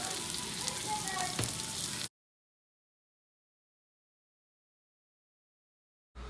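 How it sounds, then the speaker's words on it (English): Onions frying in a pan toward golden brown, a dense, steady sizzle for about two seconds, then a sudden cut to silence before the sizzle briefly returns at the end. "We like our onions really well done, so I am going to cook these until they are really nice and kind of golden brown"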